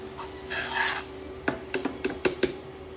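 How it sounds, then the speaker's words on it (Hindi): A spoon stirs chopped cashews and almonds into a date mixture in a pan, giving a soft sizzling scrape followed by a run of short, close scraping taps. "और मैं अभी इसे थोड़ा सा चलाऊंगी।"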